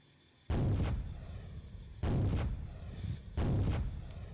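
Three heavy, booming video game gunshots land about a second and a half apart, each a sharp loud blast with a long rumbling tail that fades before the next.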